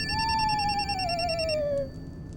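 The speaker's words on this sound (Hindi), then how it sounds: "एक मिनट, फोन मेरा बज रहा है" A mobile phone rings with a steady electronic tone and a pulsing buzz that trails off after about a second and a half. It sounds close and loud over a room hum, and no one talks.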